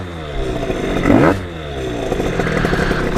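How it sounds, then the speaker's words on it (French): A freshly rebuilt motorcycle engine runs close by with a steady rough idle, briefly swelling in a short rev before dropping back to an even, harmonic-rich drone. "qu'elle marche super bien la moto"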